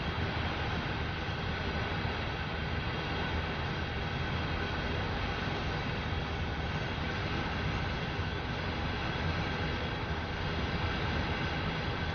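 A diesel locomotive in Train Sim World 5 builds speed with a steady, broad engine drone and rumble that holds level throughout, continuous and close with no voices.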